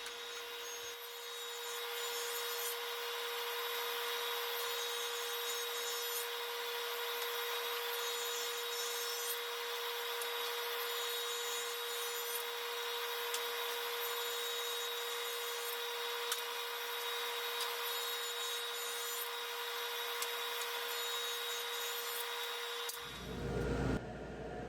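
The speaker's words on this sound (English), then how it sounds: "I cut my plywood down into 5-inch strips" A power saw cuts plywood into 5-inch strips with a steady, high whine that holds loud and unbroken for over twenty seconds before winding down abruptly.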